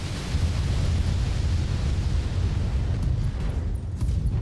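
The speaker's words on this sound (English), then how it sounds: "That's a lot of ammo explosions" Dense, continuous rumbling blasts with heavy low-end booms, a sustained barrage of ammo explosions in the video game BattleTech filling the whole stretch at steady loudness.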